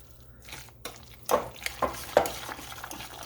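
Stirring with a dough whisk in a bowl, heard as a few soft scraping strokes and three distinct close clinks against the bowl over quiet kitchen background.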